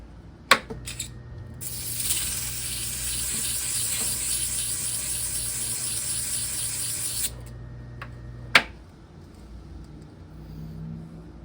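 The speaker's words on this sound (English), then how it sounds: "I've got the fan plugged in, and I'm just going to run it and burnish this a little bit and get any rust off of here" A vintage Emerson box fan runs steadily with a whooshing, rubbing drone while its blades are burnished to remove rust, with sharp clicks at the start and end as it is switched and handled.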